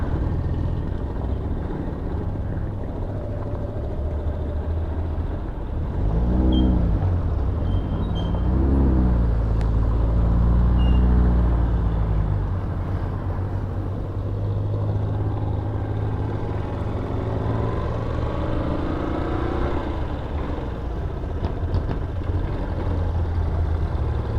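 A jeep driving along a road, a continuous low engine rumble with road noise that swells as it shifts and accelerates around the middle, then settles back into a steady cruise; no talking.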